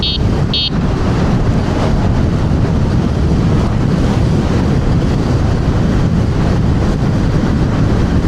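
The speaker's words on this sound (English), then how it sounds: "It's so windy going this direction." Strong wind roars steadily and loudly against the microphone while riding a TRBK-M2 electric hyperscooter on a windy afternoon, a dense continuous buffeting rush with no speech.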